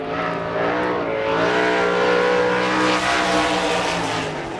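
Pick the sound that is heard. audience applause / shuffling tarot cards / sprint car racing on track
sprint car racing on track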